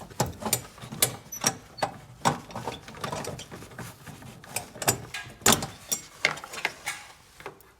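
A Ford Edge headlight bulb is twisted counterclockwise out of its housing, giving a close series of irregular plastic clicks, ratcheting snaps and rattles over several seconds.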